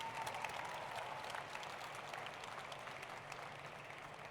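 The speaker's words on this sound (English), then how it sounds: "Another big round of applause to Event Horizon Team" Crowd at a regional robotics competition applauding a team, a steady, distant-sounding wash of clapping from a large audience, faint and continuous.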